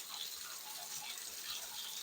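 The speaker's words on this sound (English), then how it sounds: "Water is actually dripping out from inside the handle" Water drips and trickles from inside a leaking shower handle onto the spout, a faint, steady watery patter with soft splashes and no voices.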